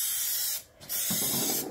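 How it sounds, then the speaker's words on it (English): Quick-drying contact adhesive sprays from an aerosol can onto a Mustang S197 car door panel and insert, two close hissing bursts split by a short pause. "We're about to spray both the panel and"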